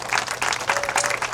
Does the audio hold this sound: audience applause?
yes